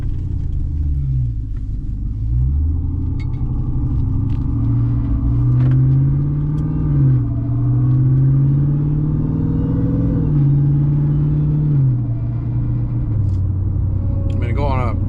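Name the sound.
Dodge Ram TRX truck driving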